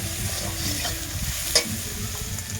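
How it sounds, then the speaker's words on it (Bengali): Garlic paste and onion fry in hot oil with a steady, close sizzle, broken once by a sharp scrape of stirring. "তেল আর পেঁয়াজ আর রসুন যেন একটু ভালো করে ভাজা হয়"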